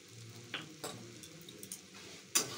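Light stirring of a jackfruit and prawn curry with turmeric in a pan: a few soft, close scrapes and taps over a faint sizzle, with no talking.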